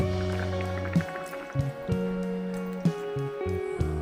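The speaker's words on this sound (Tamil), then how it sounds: "ஒரு சின்ன நெல்லிக்காய் சைஸுக்கு புளி எடுத்து சுடு தண்ணியில ஊற வச்சு எடுத்து வச்சிருக்கேன் இதை சேர்த்துக்கிறோம்" Soaked tamarind water being poured into a pot of drumstick sambar, a few distinct liquid splashes and drips punctuating a steady background hum, close and fairly quiet.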